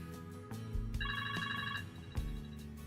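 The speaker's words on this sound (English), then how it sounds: "your phone's ringing in the background" A telephone rings in the background, a bright trilling bell tone in one sustained burst, set against low household sounds and a few thuds.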